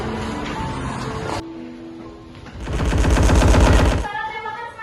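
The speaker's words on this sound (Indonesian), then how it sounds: "Suara tembakan semakin dekat." Bursts of gunfire crackle and rattle in rapid succession, with a heavy, sustained volley building loudly in the middle before cutting off.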